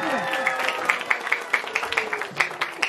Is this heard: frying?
no